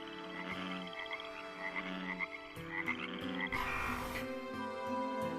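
Frogs croak in a steady chorus of rapid, repeated calls, fairly close and continuous, over a low background hum, with a brief rustling burst toward the end.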